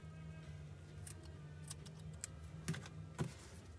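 Scissors snip crochet yarn for an amigurumi lily pad coaster, a few quiet sharp clicks near the end over faint background hiss, close by.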